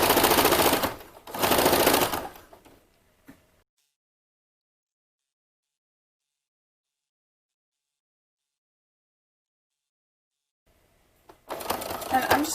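A sewing machine stitches the waistband of a vintage jumper, running in two quick close bursts at the start and again near the end, with a long quiet stretch between where it stops.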